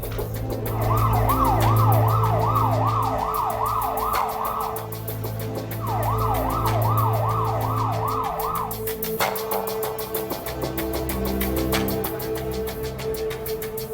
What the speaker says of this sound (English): The woman's son, Nigel, travelled with her in the ambulance.